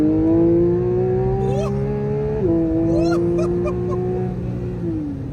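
A Porsche GT3 Touring engine revs loudly and close, its pitch climbing and dropping in several sharp blips over a steady engine drone, with someone talking over it.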